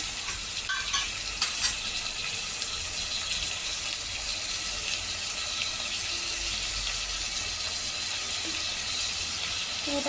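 Ginger garlic paste frying in a pan for masale bhat, a faint steady sizzle with a few clinks of a utensil early on.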